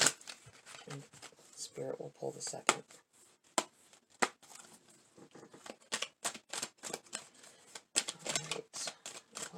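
Tarot cards are shuffled in repeated crisp riffles and taps, close up, with a quiet voice speaking partway through.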